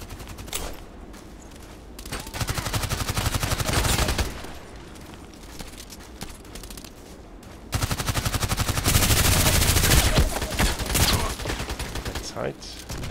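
Video game gunfire in the shooter Contract Wars: dense bursts of automatic weapon fire and rapid shots in two heavy stretches, loud and close, with quieter gaps of scattered shots between them.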